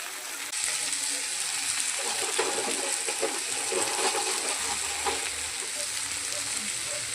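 Slit green chillies hit hot oil with turmeric and ginger paste in a pan, a loud, dense, close sizzle that starts abruptly and hisses steadily, with no talking.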